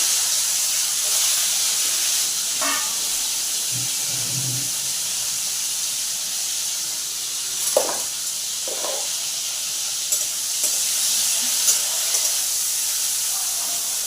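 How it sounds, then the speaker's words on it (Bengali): Sliced teasel gourd (kakrol) frying in hot oil in a pan, a steady, dense sizzle and hiss close up, with a few faint clinks and shifts over the continuous crackle. "দেখো আমি কাঁকরোলটা ভাজছি।"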